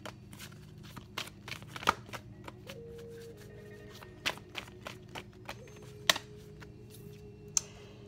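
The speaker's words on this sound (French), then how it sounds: "Moi, j'aime laisser les cartes s'éjecter." Oracle cards are shuffled by hand in a quiet room: a series of soft, irregular riffling snaps and flicks, some sharper than others, spaced across the span with no talk.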